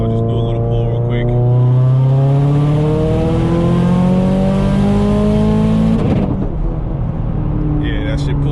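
A stock-turbo car accelerates hard through the gears, its engine note climbing steadily and loud with turbo whoosh, then a shift near the end before it keeps pulling; no talk over it.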